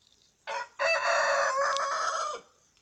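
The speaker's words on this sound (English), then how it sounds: "It's not crowing as loud as it used to, or as often." Rooster crowing once in a single loud, drawn-out call, a brief opening note followed by a sustained harmonic crow that cuts off sharply, heard close with no talk.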